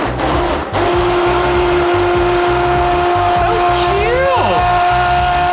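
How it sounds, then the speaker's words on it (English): An immersion blender whirs through a bubble gum cocktail, giving a loud, close, continuous motor buzz with a steady rhythmic chatter from start to finish. "We're gonna blend this with our immersion blender."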